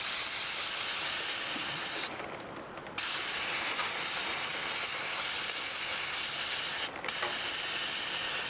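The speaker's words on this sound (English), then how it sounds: "So I'm just going to take a little brake cleaner and clean this off so I can tell if I have a leak afterwards." Brake cleaner sprays in two short bursts onto the 10 mm drain plug of a generator, a hiss of about a second and a brief second puff, over a steady background hiss with no talking.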